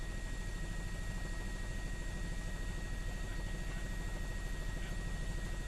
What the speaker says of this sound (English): There's at least 1 aircraft overhead.